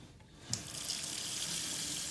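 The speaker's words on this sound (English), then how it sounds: "It's called a water tap." Water runs from a household tap into a sink, starting with a soft click and then a steady close hiss and splash of flowing water.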